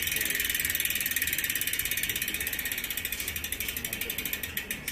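The rear hub of an Axis Elite 4.0 SCS disc wheelset for a Specialized Sequoia Elite freewheels with a fast, even ratcheting click. The clicking gradually slows as the wheel coasts down, close and fairly quiet.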